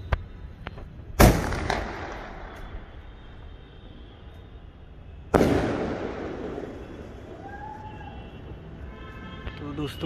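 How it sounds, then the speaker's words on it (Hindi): A Golden Ceremony sky shot Diwali firecracker goes off outdoors: two sharp loud bangs several seconds apart, each trailing crackle and rumble, over background chatter from people nearby. "सबसे पहले हम लोग जलाने वाले हैं गोल्डन सेरेमनी स्काई शॉट"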